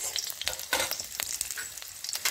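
Green chilies, garlic and ginger sautéed briefly in a pan for a Malvani-style masala, with a steady close sizzle broken by repeated scraping stirs of a spoon against the pan.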